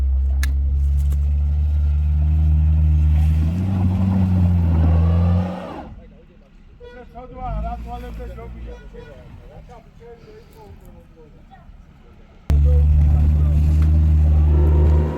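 A Land Cruiser engine driving off-road drones loud and low, then revs and fades, and roars back in near the end. Voices talk in the background at times.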